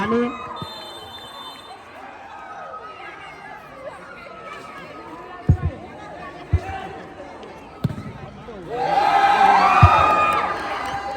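Spectators at a high school futsal league final: crowd chatter and a few ball thumps lead to a loud burst of cheering near the end, with a commentator talking over the crowd.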